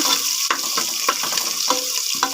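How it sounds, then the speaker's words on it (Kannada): Onions going into a pan to fry, heard as a close, sizzling hiss broken by repeated short scraping strokes of a spoon at a fairly brisk, regular pace. "ಈರುಳ್ಳಿನ ಹಾಕ್ತಾಯಿದ್ದೀನಿ. ಸ್ವಲ್ಪ ಫ್ರೈ ಮಾಡಬೇಕು"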